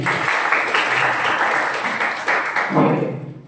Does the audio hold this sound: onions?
no